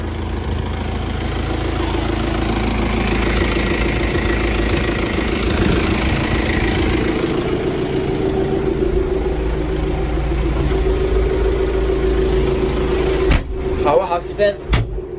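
A Tümosan 8195 tractor engine idles with a steady low rumble throughout, and near the end the cab door clunks and rattles close by.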